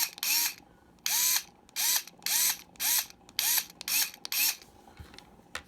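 Hyper Tough 4 volt straight grip rechargeable screwdriver running in eight short bursts, each a whirring buzz that rises in pitch, separated by brief silent gaps.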